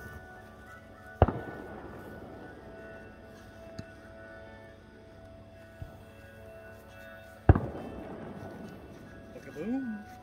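Fourth of July fireworks in 2021 explode as two loud, sharp bangs several seconds apart, each trailing off in a rumbling echo, with a couple of much fainter pops between them and a voice murmuring near the end.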